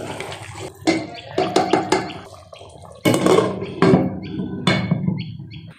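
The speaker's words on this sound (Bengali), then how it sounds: "এখন বলক উঠে গেছে।" Chicken curry boils in a pot, its thick sauce bubbling and spluttering in loud, uneven bursts close by, with no talking.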